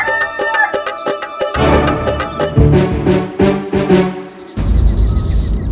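A rooster crows with a long drawn-out call, then clucks in a series of sharp, loud bursts close by, with short pauses between them.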